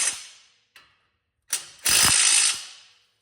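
Fastener on a 2011 Ford Mustang front strut assembly being run down with a ratcheting tool: a few short, close mechanical bursts, then one loud, sustained whirring run of under a second that cuts off sharply. No one speaks.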